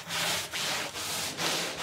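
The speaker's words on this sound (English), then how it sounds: "And now I sand lightly with a medium grit abrasive sponge." Wooden cabinet being sanded lightly by hand with a medium grit abrasive sponge, a close, steady scratchy rubbing in four even back-and-forth strokes with no talking.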